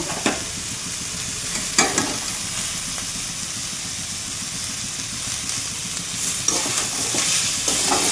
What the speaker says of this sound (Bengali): এবার মশলাটা ভাজবো, একটু জল দেবো মশলাটাতে।